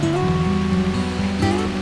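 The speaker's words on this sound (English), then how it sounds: "we are now in the midst of extremely heavy rain" Extremely heavy rain falls outdoors on a hike up Old Pale on the Cheshire Plain, a loud, unbroken wash of noise with a faint tonal hum and no speech.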